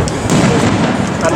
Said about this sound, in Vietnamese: Này pháo hoa tầm cao và xịt nhiều quá.